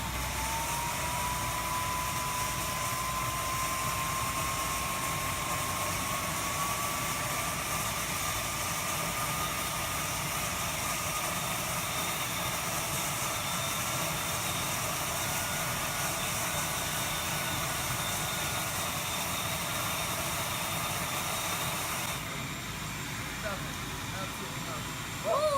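A homemade turbo furnace spools up with a loud, steady roaring rush of air and a thin whine that climbs in pitch early on. The roar stays close and constant and shifts slightly near the end.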